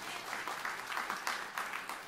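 A church congregation claps at a Christmas Eve service, producing a faint, steady patter of many hands heard from a distance.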